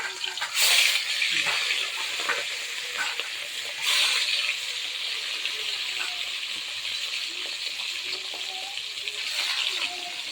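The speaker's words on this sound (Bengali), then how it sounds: "মাছগুলো তেলের মধ্যে ছেড়ে দিচ্ছি" Fish fry in hot oil in a pan over a wood fire, giving a steady bright sizzle with louder bursts as pieces go in and are stirred.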